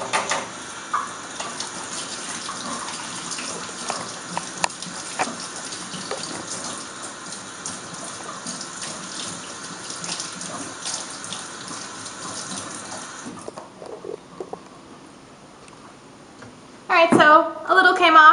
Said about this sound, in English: I'm going to go and try rinsing them off with just plain water.